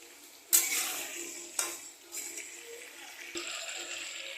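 Chicken with green peas is stirred and sautéed in a pan for a Bengali chicken kosha, giving a few sharp spoon-on-pan clacks over a soft steady sizzle, moderately close, with no talking.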